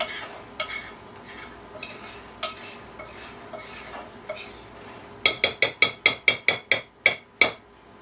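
A spatula scraping down the sides of a mixing bowl of cherry muffin batter, first scattered knocks and scrapes, then a quick run of sharp regular taps against the bowl.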